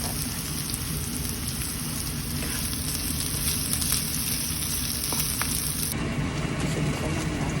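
Fried potatoes hiss and crackle as they land in a hot oil-filled pan, a steady, dense sizzle close by that carries on without pause.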